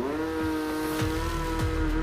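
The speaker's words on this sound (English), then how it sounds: "The two cars hurtle down the road, their engines roaring as they push themselves to their limits" A Tesla Cybertruck 2024 and a Porsche 911 race side by side, giving a sustained, tonal engine drone with brief tire squeals cutting in now and then, close and fairly loud, with no talk.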